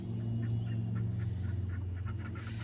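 Ducks kept in a backyard flock beside chickens quack in a steady run of short calls over a constant low hum, moderately close, with no talking.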